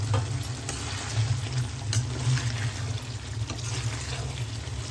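Paneer being fried in oil with masala paste for palak paneer, a steady close sizzle and bubbling with a low rumble beneath, continuous throughout.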